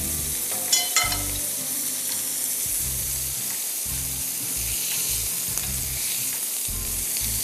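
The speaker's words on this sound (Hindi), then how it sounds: "शैलो फ्राई करिएगा कम तेल में" Fish shallow frying in a pan with a little oil gives a steady, close hiss and crackle. A couple of light clinks come near the start.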